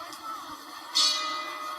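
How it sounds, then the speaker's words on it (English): A boxing bell rings out to end the first round of a heavyweight bout, one bright clang rising over steady crowd noise and lingering briefly. "There's the bell ending round 1."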